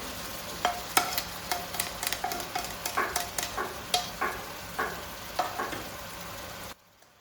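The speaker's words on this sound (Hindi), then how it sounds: "चिकन हमने इसमें डाल दिया है। अब हम इसको अच्छे तरीके से इसकी करेंगे भुनाई।" Chicken pieces frying for haleem in a pan while being stirred, giving a steady sizzle with repeated scraping strokes about every half second, fairly close; it cuts off abruptly near the end.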